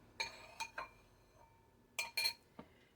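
Deep bowls clinking against each other and against cutlery while preparing stuffed eggs: a few sharp, bright clinks, one pair early, then a cluster of three near the end, close and clear over a quiet room.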